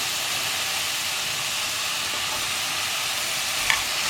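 A pumpkin stew with capsicum cooks in a pressure cooker, giving a constant sizzling hiss, with one brief clink of a utensil near the end.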